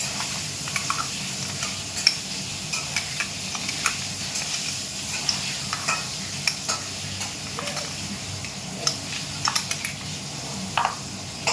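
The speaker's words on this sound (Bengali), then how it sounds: "এই যে সব মশলা দিলাম আদা রসুন জিরে লঙ্কা তারপরে গোলমরিচ সব মশলা দিলাম" Ginger, garlic, cumin, chili and black pepper fry in a pan with a moderate, continuous sizzle, broken by occasional scrapes and clinks of a utensil and no voices.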